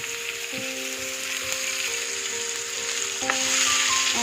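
Onion hits browned dals in a hot pan, giving a steady, close sizzle over a constant mechanical hum, with the frying getting louder and brighter in the last second.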